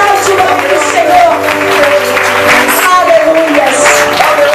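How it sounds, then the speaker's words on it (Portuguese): A church congregation claps together in praise during a service, a loud, continuous wash of hands mixed with raised voices and shouts. "Louve ao Senhor com as suas palmas"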